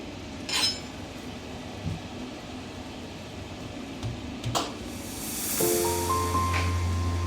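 A pan is set down on a gas stove and the burner is lit to a low flame: a few sharp metallic clinks, then a soft steady hiss with a faint hum from close by, no talking.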